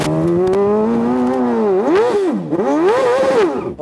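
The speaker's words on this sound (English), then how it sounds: "R6 powered go-kart." Go-kart powered by a Yamaha R6 motorcycle engine, screaming loud and close as the revs climb, then dip and rise again in sharp waves as it accelerates through gears.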